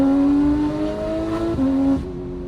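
Porsche 911 GT3 (2022) fitted with a Soul race exhaust and headers, heard from inside the cabin while driving: a steady engine drone that climbs in pitch, dips at a shift, then rises again.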